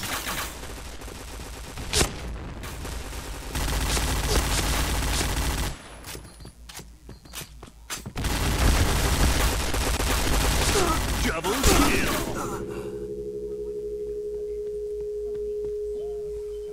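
Rapid gunfire and sniper shots in the shooter game Point Blank come in loud bursts separated by short pauses, ending with a steady electronic tone.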